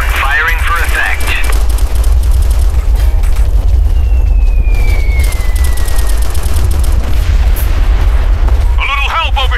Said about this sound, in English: I want HE barrage artillery, 200 meters northeast of my position.